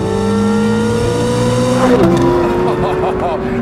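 A 2023 Corvette Z06 with a high-revving naturally aspirated engine climbs through its revs with a loud, harmonic induction howl inside the car, then the pitch drops sharply on a shift and climbs again.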